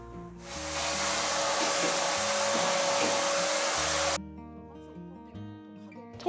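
A Kirby vacuum cleaner runs during cleaning of a newly built home, a steady, loud, airy roar holding for about four seconds before cutting off, with soft music continuing underneath.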